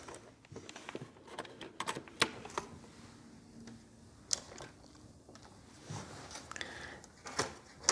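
Keys clatter on the cheap keyboard of a Compaq LTE 5280 laptop, irregular close clicks and taps in uneven bursts with brief pauses between them and no talking.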